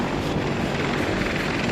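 Helicopter sent from a US aircraft carrier during the 1975 Saigon evacuation, a steady, loud rotor and engine drone filling the whole stretch with constant broadband wash and no voices.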